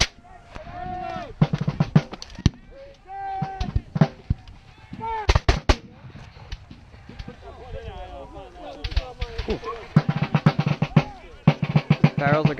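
Musket volleys crack out in ragged bursts during a Battle of Monmouth reenactment, with loud clustered reports and a heavy barrage near the end, interspersed with shouted commands and talk among the soldiers.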